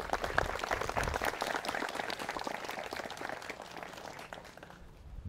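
Wedding guests applaud the newly joined couple during the ceremony, a soft, somewhat distant patter of many hands clapping that stays fairly even before fading slightly at the end.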